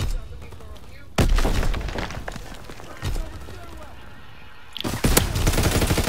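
Gunfire from the World War II shooter Call of Duty: WWII, with loud close bursts of rapid fire and booms breaking over a steady game background, with voices underneath.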